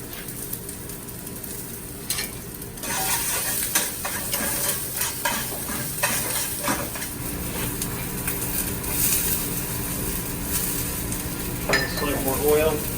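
Shallots fry and sizzle steadily in a pan during a steak cooking demonstration, with occasional stirring scrapes and clinks of utensils, and faint voices in the background.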